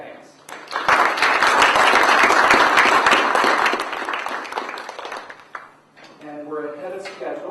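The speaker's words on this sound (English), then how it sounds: "we really owe him a round of applause and thanks" Audience applause at a university senate meeting fills the room, dense and steady clapping rising quickly and holding for several seconds before tapering off, with people then speaking.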